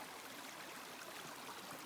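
A green creek or spring flows steadily along a backpacking trail, a soft, even wash of running water at low level with no talking.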